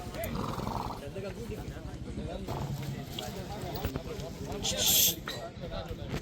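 A black Kutchi horse of the Juni Lachha line whinnies a few times amid steady nearby chatter from several people.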